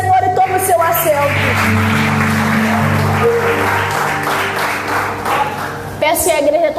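Church congregation applauding together, a steady wash of clapping held at even loudness from start to finish, with sustained musical or instrumental tones running beneath it.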